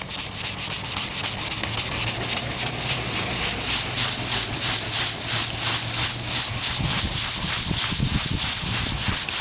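Bondo glazing putty on the driver's side wheel arch of a 1998 Ford Ranger is sanded with lower-grit paper, a loud, close, rhythmic rasping of quick back-and-forth strokes throughout.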